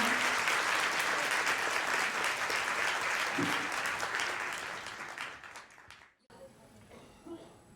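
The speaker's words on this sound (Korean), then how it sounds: "큰 박수 부탁드립니다" Wedding guests applaud in a convention-hall ceremony after the marriage is declared, a loud sustained round of clapping that fades out near the end, followed by quiet room tone and a faint voice.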